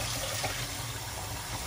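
Warm water pours steadily from a tap during a dog's bath, a dense and constant close rush with no breaks and no talk.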